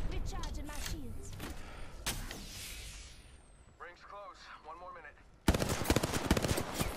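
Rapid bursts of video game gunfire rattle out in clusters, with sharp automatic shots, a lull with faint whooshing electronic effects, then a loud dense volley at the end; speech is mixed in.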